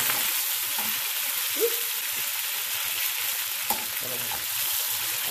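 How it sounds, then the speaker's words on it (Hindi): Green chillies and coriander fry in hot oil over browned onions, giving a close, steady sizzle with a few sharper pops throughout and no speech. "इसमें डाल देंगे थोड़ी सी हरी मिर्च, थोड़ा सा डाल देंगे हरा धनिया। और ये पटापट करेगा बहुत।"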